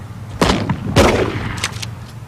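Sharp gunshots ring out during a tense armed police confrontation: two strong cracks less than a second apart, followed by fainter bangs and echoing noise at moderate distance.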